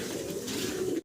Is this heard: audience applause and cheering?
no